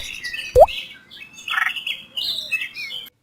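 Bright chirps and a sharp rising call ring out near the start, followed by scattered tweets and calls, with sparrows and a crow's squawk mixed in.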